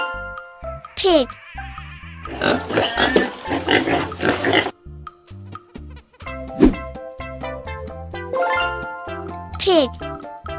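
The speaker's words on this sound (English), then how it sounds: "Pig." A cartoon pig oinks and squeals in a children's farm-animal lesson, a few short grunting sweeps set against bouncy, jingly background music.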